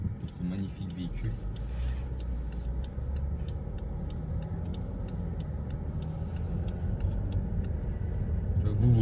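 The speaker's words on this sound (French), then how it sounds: "C'est l'essai routier de ce magnifique véhicule." A BMW X6 40d F16 SUV with M package on a road test, heard as a steady low engine and road rumble from inside the cabin that builds slightly toward the end, with a person talking over it.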